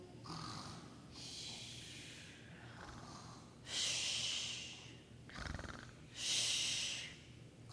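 A voice imitates snoring at a children's church Bible-school story, giving several drawn-out breathy snores with raspy inhales and airy exhales, moderately close and repeated in a slow rhythm.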